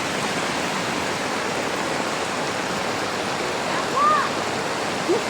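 Floodwater flowing along a village road, a steady broad rushing wash heard at moderate level throughout, with a brief faint whistle-like chirp near the end.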